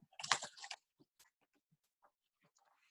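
A short burst of crisp snipping and rustling, close up, followed by a few faint scattered clicks in near silence.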